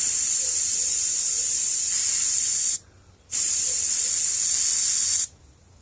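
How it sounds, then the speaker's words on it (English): An airbrush sprays charcoal paint onto a homemade practice board, giving a loud, steady airy hiss in two long bursts, each cut off by a brief silence. "This is the first time I'll be airbrushing in my life"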